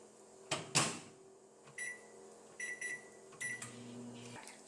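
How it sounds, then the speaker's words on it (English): A microwave oven is run with a tortilla basket inside: its door thuds shut, several short keypad beeps sound, and the appliance's low hum starts up near the end. "Now I am keeping it in a microwave for 1 minute."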